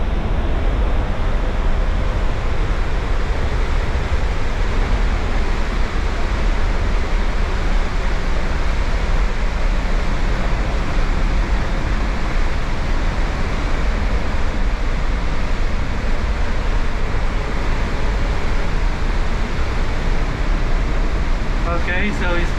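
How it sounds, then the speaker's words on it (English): A waterfall in the Ecuadorian Andes roars loud and close, a dense, unbroken wash of rushing water that holds steady throughout. "let's try to get under the waterfall"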